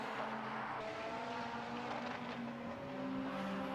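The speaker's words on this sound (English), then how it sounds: "Here comes the Caterham out of the hairpin" A Caterham race car accelerates out of a hairpin at Knockhill circuit during a time attack event. The engine note is a continuous, fairly distant revving whine that climbs through the gears.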